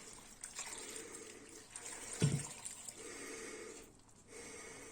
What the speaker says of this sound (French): Donc on vient recouvrir d'eau.